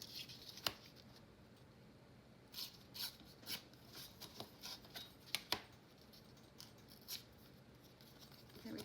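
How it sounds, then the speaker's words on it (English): Paper torn by hand along an edge while making junk journal tags, a series of short dry rips and rustles in uneven bursts, close and fairly quiet, with no talk. "Just going to tear along the edge there."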